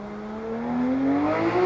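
A Porsche GT3 RS supercar passes on a city street, its engine note climbing steadily in pitch as it accelerates, moderately loud over a short stretch with no talk.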